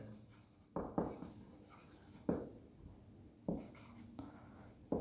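Chalk or marker strokes on a board during a class 10 trigonometry maths lesson come in several sharp scratchy bursts with pauses between, near and fairly clear.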